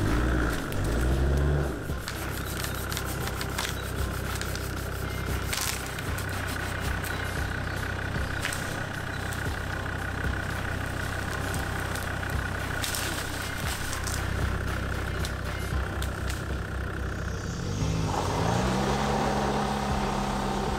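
A Peugeot 205 fitted with 4x4 tyres, its engine running steadily in a low drone as it reverses, with a shift in the engine note near the end.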